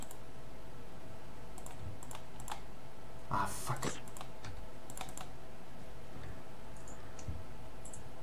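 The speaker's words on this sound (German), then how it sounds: "Sorry wegen Klicken, Leute" Sparse keyboard clicks tap out irregularly across the clip, with a brief muttered exclamation and a louder burst of clatter midway.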